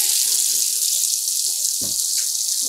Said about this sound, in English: by adding some water